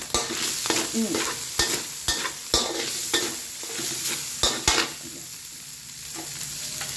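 Minced pork and shrimp stir-fried in a hot pan for Thai basil kaphrao, with a steady sizzle broken by sharp spatula scrapes and clacks every second or so, close and fairly loud, no talking.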